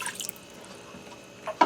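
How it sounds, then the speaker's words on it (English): A cup of water goes into an Instant Pot holding a wire trivet, heard as a brief splash and drip at the start and a louder splatter near the end, with a quiet gap between and no speech. "I'm going to add in a cup of water."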